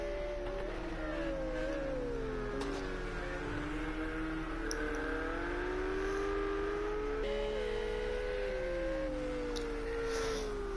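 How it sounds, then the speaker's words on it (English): Racing video game cars, a number 50 yellow Ferrari chasing a blue Porsche, roar with steady engine drones whose pitch rises and falls through gear changes, continuous and fairly loud with no talk. "that number 50 yellow Ferrari trying to catch up to that blue Porsche"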